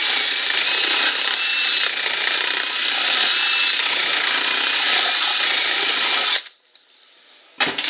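A power drill whines steadily and close up for about six seconds, then stops abruptly, followed by a brief quiet and a short final burst.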